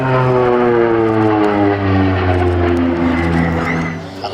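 Twin Garrett T76 turboprops of an OV-10 Bronco counter-insurgency aircraft drone loudly and close by, a steady strong tone with harmonics that slowly shift in pitch as it passes, then eases slightly at the end.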